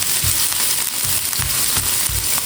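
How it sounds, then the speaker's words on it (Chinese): Minced garlic stir-fried in a little hot oil in a wok over low heat, a loud, continuous sizzle close by with soft periodic scraping strokes from stirring, no talking. "锅中加入少许的食用油，油热之后，把切好的蒜末倒在锅里，小火煸炒出葱蒜的香味儿"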